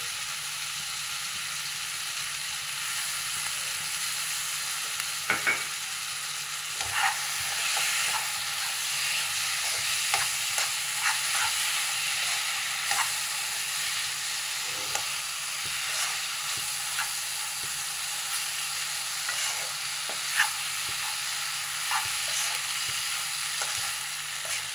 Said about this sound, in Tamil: நல்லா இந்த மசாலா வாசனை போகிற அளவுக்கு நல்லா வதக்கிக்கலாம்.